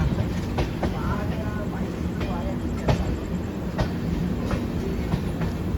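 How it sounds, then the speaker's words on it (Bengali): A train rumbles steadily with rhythmic clickety-clack wheel clatter and faint metallic squeals, heard from on board as it rolls slowly into Dum Dum Junction station. "ট্রেন এখন আমাদের ঢুকছে দমদম।"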